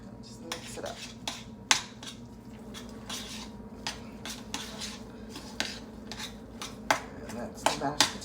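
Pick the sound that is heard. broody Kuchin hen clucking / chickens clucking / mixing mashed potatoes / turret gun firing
mixing mashed potatoes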